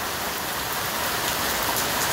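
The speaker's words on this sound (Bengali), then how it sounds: "শেষমেশ বৃষ্টি নামিয়ে দিলাম। অপরূপ সুন্দর বৃষ্টি হইতেছে আজকে আমাদের এখানে" Steady rain falling outdoors at Monpura, a dense, even hiss of drops on surfaces that runs unbroken throughout, fairly close and with no voices.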